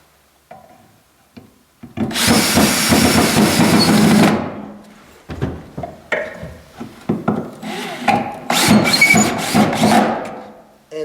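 Screws are driven into wood while chicken perch bars are assembled, giving a loud grinding burst of a couple of seconds, then a pause and a series of shorter rasping pulses with knocks in between, close up.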